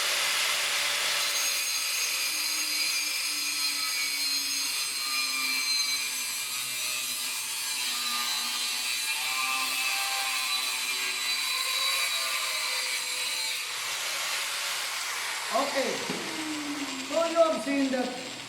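An electric grinder fitted with a cutting disc cuts through metal, a sustained loud high-pitched screech and whine that runs steadily, with a voice talking briefly near the end.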